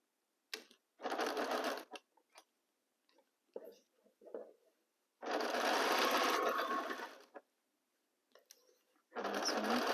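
A sewing machine stitches fabric in several loud bursts of rapid whirring, close by, separated by quiet gaps with small handling and pin-removal sounds.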